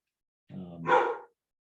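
A dog barks once or twice in the background, a short, fairly close burst of a little under a second that rises to a sharp peak and then stops.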